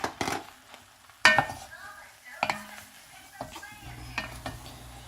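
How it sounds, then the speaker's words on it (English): Ground beef and onions sizzle in a pan for taco soup, with a few sharp utensil scrapes and knocks breaking through the steady frying hiss; no one speaks. "here I have added the ground beef to the onions, and I'm just gonna stir all this together and get that going"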